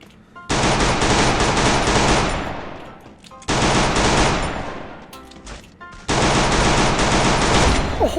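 Bursts of automatic gunfire from a shooter video game, three loud sustained volleys separated by short gaps, each burst rattling rapidly and fading slightly before the next begins.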